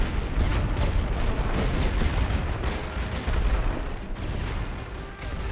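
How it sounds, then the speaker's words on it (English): Dense, continuous rifle and machine-gun fire crackles throughout a World War One trench defense in the video game Great War Western Front. Heavy overlapping volleys and thuds go on without pause. "Even these guys will be shooting at them now."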